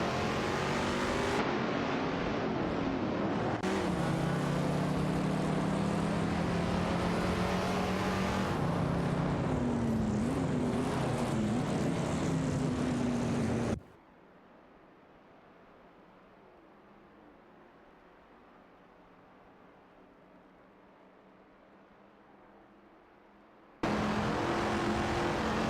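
Chevrolet Corvette C3 race cars roar in a racing video game, a loud sustained engine drone with shifting pitch that drops abruptly to a much quieter hum for about ten seconds before the full roar returns.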